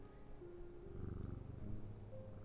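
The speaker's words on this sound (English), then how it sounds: "Pet the cat." A cat purrs softly and steadily while being petted in a video game, a low rhythmic rumble alone under faint tonal background.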